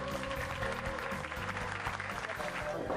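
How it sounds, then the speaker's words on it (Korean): An audience applauds in a hall while music plays over it, with the clapping mixed steadily under a prominent tonal backing. "이렇게 다시 한번 큰 박수 부탁드립니다"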